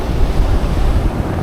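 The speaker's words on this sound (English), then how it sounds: "It's a bit windy." Strong seaside wind buffets the microphone over crashing surf at a beach campsite, a loud continuous roar without speech.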